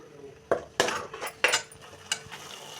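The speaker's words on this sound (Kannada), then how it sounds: "ರುಬ್ಕೊಂಡಿರೋ ಮಸಾಲ, ಸ್ವಲ್ಪ ಹಸಿ ವಾಸನೆ ಹೋಗೋವರೆಗೂ ಕೈ ಆಡಿಸ್ತಾ ಇರಿ" Ground masala stirred in a pan with a metal spoon: several distinct scraping clinks against the pan at irregular intervals, close and moderately loud, with quiet room background between strokes.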